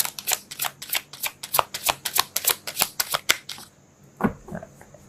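Rapid riffling of a tarot card deck, about a dozen crisp bursts in quick rhythm, close by, then a few softer handling sounds after it stops.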